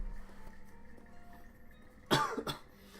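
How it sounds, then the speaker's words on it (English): A person coughs twice in quick succession, close and fairly loud, after a stretch of quiet room tone with faint background hum. "I say as I cough."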